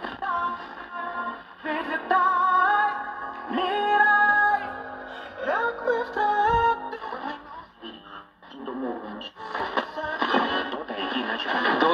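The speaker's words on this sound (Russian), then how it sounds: "Какие-то прорываются помехи." A 1972 Aciko FSH-212 AM/FM receiver tuned to the evening medium wave band gives a steady stream of whistling heterodyne tones, warbling squeals and crackling interference over faint broadcast sound, loud and continuous.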